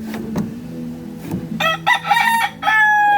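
A fighting rooster crows repeatedly and loudly at close range, a rising, drawn-out call broken into several bursts, with no other voices.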